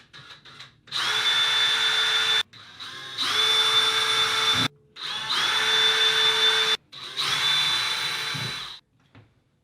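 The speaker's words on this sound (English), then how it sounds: "I'm going to start by drilling pilot holes with a 1/16 bit." A power drill with a 1/16 bit drills pilot holes for a towel warmer installation in four steady bursts of a few seconds each, close and loud, with short pauses between.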